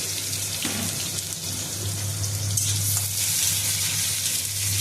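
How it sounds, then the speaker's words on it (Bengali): Onion and Bengali five-spice frying in hot oil for bitter gourd chorchori, a steady close sizzle with a faint low hum under it and no talk. "আমি এর মধ্যে 5 ফোড়ন দিলাম, অল্প একটু পেঁয়াজ ফোড়ন দিচ্ছি।"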